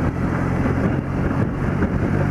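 Strong, gusty wind buffeting a rider on an old motorcycle, a loud continuous roaring rush that fills the whole clip with no pauses.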